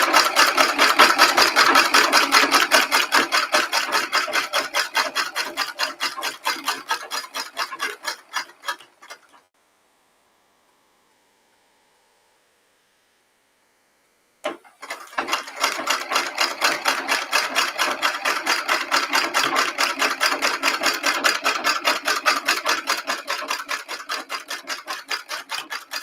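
Embroidery sewing machine stitching in rapid, steady ticking bursts, running loud for about nine seconds, stopping for several seconds of silence, then resuming at the same brisk pace.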